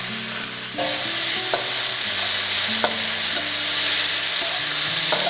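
Vegetables frying with a little turmeric in a pan, being stirred: a steady broadband sizzle with repeated scraping strokes of the spatula, close and fairly loud, with no talk.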